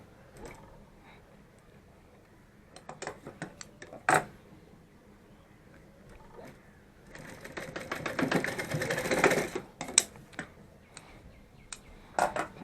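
A home sewing machine stitches a fabric patch over a broken bag zipper, with scattered clicks and handling knocks, then a sustained burst of rapid stitching, followed by a few more sharp taps.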